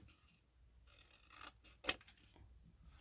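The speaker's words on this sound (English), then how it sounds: "I think I'm gonna trim this down just a hair" Scissors trim a sheet of paper for a handmade wallet journal: a single crisp snip near the middle, surrounded by soft paper rustling and handling noise at close range.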